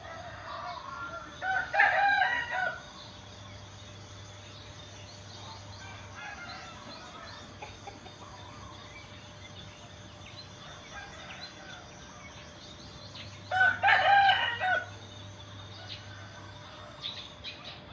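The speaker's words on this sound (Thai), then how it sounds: "ไก่เขาก็ตื่นแต่เช้ามาหาแมลงกินนะคะ" Roosters crow in the early morning after a night of rain, two clear calls some distance apart separated by long quiet stretches with faint bird chirps and a low background hum.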